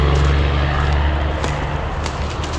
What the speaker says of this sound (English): Loud trucks.